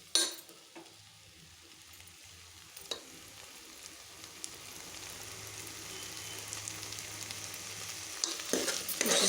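Flat bean seeds fry in oil in a pan with a steady hiss and crackle that slowly builds louder, broken by a few sharp knocks of a spoon, with no voices.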